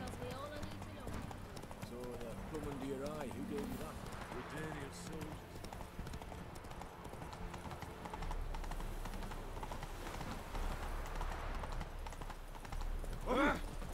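A horse's hooves clip-clop in The Witcher 3 game, a steady rhythmic clatter running beneath a voice that talks throughout, with a low rumble and faint animal sounds around it.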